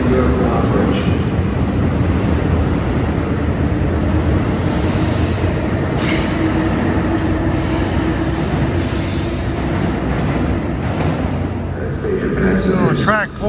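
ALP-46A electric locomotive hauling a train through Newark Penn Station during rush hour, a steady loud broadband rumble of rolling stock with brief high wheel squeals toward the end.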